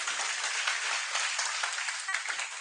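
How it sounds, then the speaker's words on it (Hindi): An audience at a coaching-class gathering claps again for a farmer's son honored for exam success; dense, even applause fills the whole stretch at moderate loudness, with no talk over it. "एक बार दोबारा तालियां बजाएंगे आप।"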